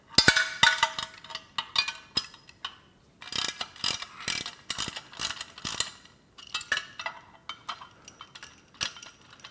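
A wrench ratchets repeatedly while loosening a nut and bolt during assembly of a Body Solid EXM3000 gym machine, the close, crisp clicking coming in bursts separated by brief pauses, with metal parts clinking.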